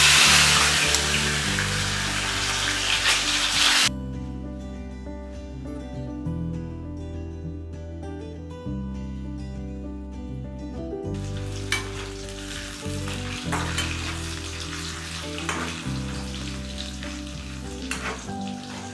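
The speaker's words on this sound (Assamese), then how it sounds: "এতিয়া নিমখ হালধি সানি থোৱা মাছ কেইপিচ ভাজিম।" Loud, constant sizzling of salt-and-turmeric-coated fish pieces frying in hot oil in a wok, crackling steadily throughout with a low rhythmic thumping beneath it.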